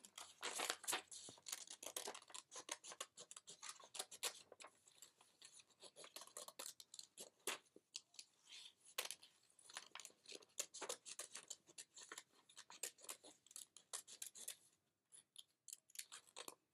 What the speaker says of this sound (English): I'm also going to cut out my superhero